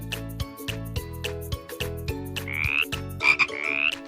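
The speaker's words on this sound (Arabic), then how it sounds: "ضفدع. Frog." A series of loud, low frog croaks, repeated in a steady rhythm close by, with a few higher rising calls toward the end.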